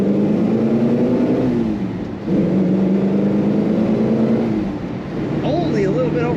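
A 1964 Ford Falcon Sprint convertible engine revs and accelerates, its tone climbing through two pulls with a brief dip between gear changes, heard from inside the car while a person speaks over it.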